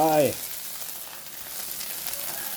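Field rat meat stir-frying in a pan, a steady close sizzle with soft scraping, after a brief voice at the start.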